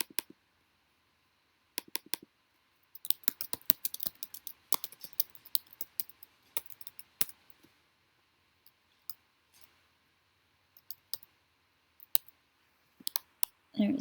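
Sparse computer mouse clicks, some coming in quick triple-click clusters, sound close and quiet in an otherwise near-silent room.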